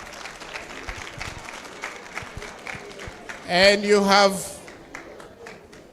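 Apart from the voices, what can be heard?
quiz audience clapping for themselves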